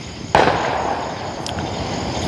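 A single sharp firework burst on the Fourth of July, a loud nearby bang that decays into a lingering rumble and crackle over outdoor evening background noise.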